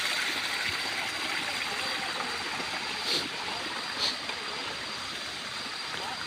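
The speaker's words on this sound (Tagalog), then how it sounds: "Ang lakas ng tubig dito guys." Strong, steady rush of flowing stream water, loud and continuous, with a couple of faint clicks partway through.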